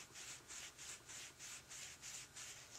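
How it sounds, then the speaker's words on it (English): Metal threads on a Harley-Davidson part being rubbed down to smooth rough spots, a steady rhythmic scraping in about seven even strokes, close and fairly quiet with no talk. "I rub them down a little bit to smooth them out and take the rough spots off them."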